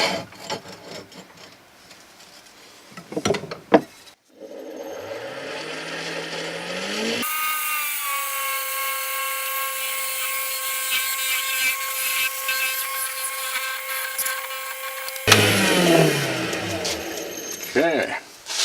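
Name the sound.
wood lathe parting off a wooden pizza cutter handle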